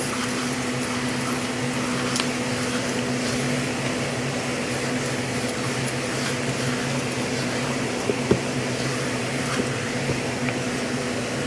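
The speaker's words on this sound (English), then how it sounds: "I had got this little vacuum right here, y'all, off of Amazon" A small handheld vacuum bought online runs steadily during an at-home nail session, giving a constant close-up whir and hum with a faint click or two and no talking.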